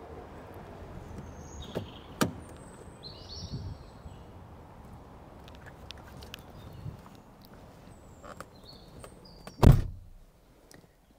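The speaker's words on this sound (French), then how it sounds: "La porte est toujours aussi mate" The car door of a 1996 Renault Safrane V6 opens and later shuts with one heavy, muffled thunk near the end, preceded by faint clicks and handling noises in a quiet setting.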